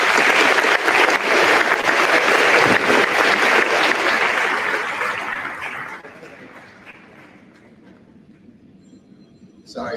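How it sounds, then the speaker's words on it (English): Applause from an audience at a senior awards ceremony, honoring students, loud and sustained clapping that fades out over the second half, leaving a quiet room near the end. "So, just one more round of applause"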